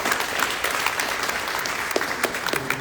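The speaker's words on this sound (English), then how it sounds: "So a round of applause to them." Enthusiastic audience applause at a homeowners' resource fair in Hacienda Heights, a dense burst of clapping with sharp individual claps standing out, sustained for a few seconds.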